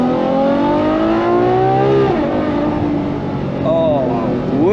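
Ferrari F12 TDF V12 engine in sport mode rising steadily in pitch under load, then dropping briefly and climbing again, loud and close from inside the cabin with a voice talking over it.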